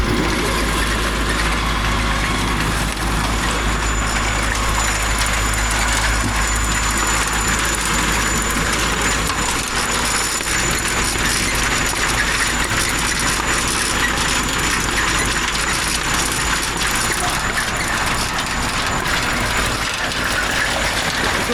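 A Zetor 7341 tractor engine runs continuously at a steady, loud rumble during parsley harvesting, with no pauses or voices.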